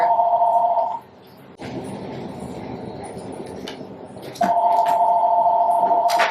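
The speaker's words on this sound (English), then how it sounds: "House phone was ringing." A house phone rings loudly nearby in two long electronic bursts separated by a stretch of muffled room noise.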